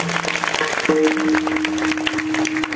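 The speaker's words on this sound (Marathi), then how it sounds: "सगळ्यांनी एकदा परत टाळ्या वाजवा." An audience at a kirtan claps together in a dense, sustained patter, with sustained musical tones ringing through the applause.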